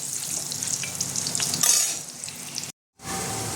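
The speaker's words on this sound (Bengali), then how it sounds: "আলুটা আমি হালকা লাল করে ভাজবো।" Potatoes fry in hot oil in a pan for a Bengali chhana dalna, a dense bright close-up sizzle with occasional stirring scrapes, briefly cut to silence before resuming.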